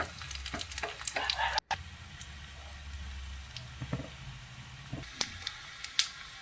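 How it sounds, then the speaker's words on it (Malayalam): Small onions and dried red chillies fry in hot oil for a fish curry, a soft, steady sizzle broken by scattered crackles and pops and a brief stirring scrape near the start. "ചെറിയ ഉള്ളി നല്ലതുപോലെ മൂപ്പിച്ചെടുക്കാം ഇനി മൂന്ന് വറ്റൽ മുളകും കൂടെ ആഡ് ചെയ്ത് കൊടുക്കുക"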